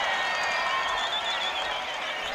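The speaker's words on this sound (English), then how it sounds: "The crowd already celebrating as Atse puts it to the boot." Rugby league crowd in Port Moresby at a PNG Kumuls versus England Knights match cheering and applauding a kick, a broad, distant roar of voices and clapping that holds steady throughout.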